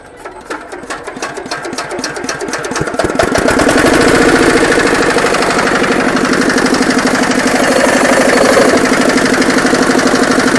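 A small single-cylinder power tiller engine is hand-cranked and catches, then runs steadily at a fast, even chugging idle, loud and close, with no voices.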